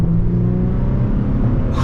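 An Infiniti G35/G37 engine revs hard after a downshift in manual mode. The close, loud rumbling drone holds steady for about two seconds and climbs in pitch near the end.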